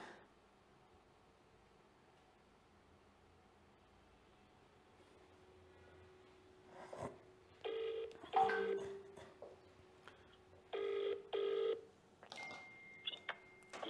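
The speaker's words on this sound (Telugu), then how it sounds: "ఒక్కసారి నా హర్షవర్ధన్ రెడ్డి కాల్ చేద్దాం" Phone dialing tones, then a call going out on a live broadcast: quiet hiss at first, then a run of separate beeps in short bursts, close and clear, with no voices.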